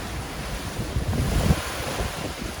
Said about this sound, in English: Okay, it's really starting to get windy now.